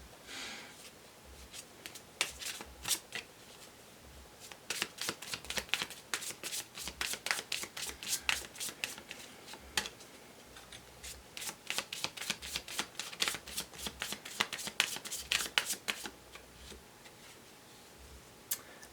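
An oracle card deck being shuffled by hand, a long run of quick crisp riffling and flicking bursts that keep going steadily and close up, with no voices.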